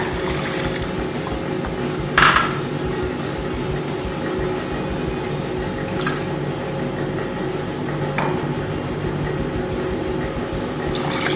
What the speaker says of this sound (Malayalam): ഇനി അതിലേക്ക് 2 ബൗള് വെള്ളം, പച്ചവെള്ളം തന്നെയാണ്.